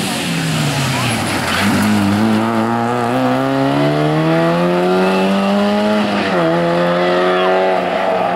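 A rally car competing at the 2nd Rally Nova Gorica in 2013 roars close by, its engine revving loud and continuous, rising steadily in pitch through the gears with a brief dip partway.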